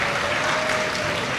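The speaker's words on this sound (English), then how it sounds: "How don't we practice clapping one time?" A high school graduation audience claps together in a dense, steady burst of applause that fills the whole moment, loud and unbroken, with no voices over it.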